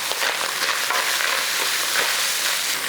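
Garlic frying in a pan while cooking Mongolian ground beef noodles gives off a steady, close, dense sizzle that stays even throughout, with no talking.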